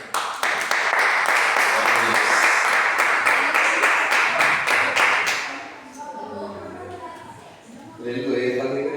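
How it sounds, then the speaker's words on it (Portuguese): A church congregation claps loudly and steadily in worship for several seconds, then the clapping fades and voices speak over quieter room sound. "Que as palmas louvem ao Senhor."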